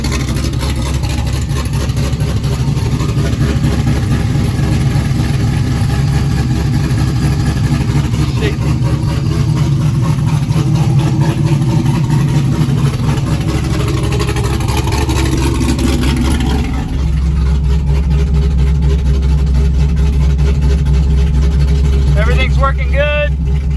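A newly installed car engine runs and idles steadily for the whole stretch with a constant low rumble, shifting to a deeper hum near the end; voices are faint beneath it.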